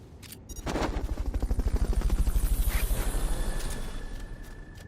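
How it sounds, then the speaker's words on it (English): A Fulton recovery helicopter in Metal Gear Solid: Peace Walker makes a loud rapid rotor thump that rises in, holds a steady chopping rhythm for a few seconds, then fades, preceded by brief game sound effects. "Fulton recovery helicopter is complete."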